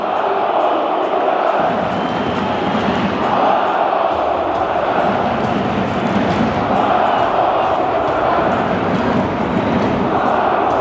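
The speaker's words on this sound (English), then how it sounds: "the crowd, particularly at this end, are just getting their voice now" Football crowd at the Spartak vs CSKA Moscow derby, a loud continuous roar of chanting fans in a stadium building up steadily, with deep rhythmic voices swelling throughout.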